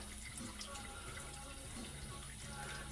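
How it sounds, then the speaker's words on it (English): A GE Profile dishwasher fills with water, giving a steady rushing flow of running water into the tub that holds constant at moderate level throughout, with no voices. "as soon as this is full of water, it should start to go through the wash cycle"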